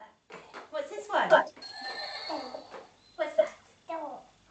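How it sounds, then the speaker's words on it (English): A toy horse neighs in a burst of whinnying during an adult's play with a young child, the call standing out loudly between stretches of nearby talk. "Horse."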